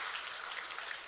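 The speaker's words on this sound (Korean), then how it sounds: "우리 박수를 하나님께 영광의 박수 돌리십시다." A church congregation applauds during a Sunday evening service, a brief burst of steady, dense clapping heard from a moderate distance.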